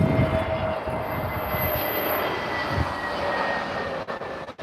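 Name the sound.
TAP Air Portugal Airbus A320neo airliner at Lisbon Airport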